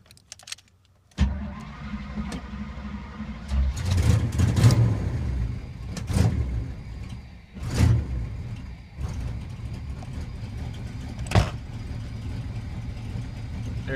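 A cold carbureted car engine, primed with starting fluid, cranks and catches after a quiet start, then runs with rough revving and uneven surges before settling into a steady idle, loud and close throughout.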